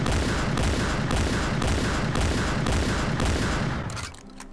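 M1014 shotgun firing rapidly in the game Point Blank: loud, evenly spaced blasts about every half second in a steady rhythm, then stopping near the end as the sound fades.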